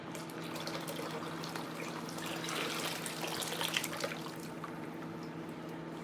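Water poured from a container into another vessel, a soft, faint splashing trickle over a low steady hum, swelling briefly in the middle before tapering off.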